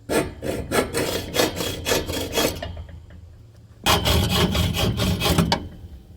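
Protruding bolts on a mini greenhouse are cut off with rhythmic back-and-forth sawing strokes, up close and loud, then a short pause before a faster, steadier run of strokes.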